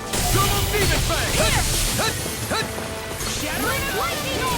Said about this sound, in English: Double demon fang!